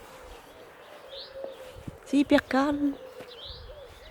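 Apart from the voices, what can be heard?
birds singing at sunset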